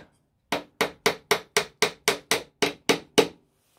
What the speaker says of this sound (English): You just need a nail either side of here. Just tap them in.